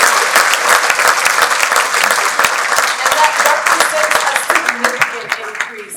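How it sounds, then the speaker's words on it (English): A gala audience breaks into loud, dense applause, many hands clapping at once close by and sustained, tapering slightly toward the end. "Let's give that a round of applause."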